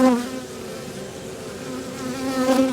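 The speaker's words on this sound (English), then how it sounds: "So many bees." Honey bees swarming over a hive frame in an Australian bee yard, a dense, steady close buzz with a sustained humming drone and slight swells in loudness.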